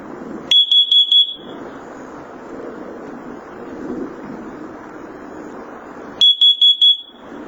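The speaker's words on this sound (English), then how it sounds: "And the 2 pair of 4 beeps." First Alert carbon monoxide detector sounding its test alarm: two sets of four sharp, loud, high-pitched beeps, separated by several seconds of breezy background noise.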